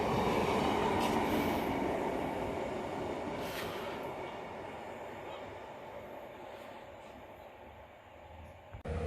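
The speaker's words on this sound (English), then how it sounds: "Train passing now is delayed 1716 Preston to Carlisle via Barrow" A delayed passenger train running from Preston to Carlisle via Barrow passes nearby, a loud steady roar of wheels on rail that fades gradually as it moves away, with faint clatter.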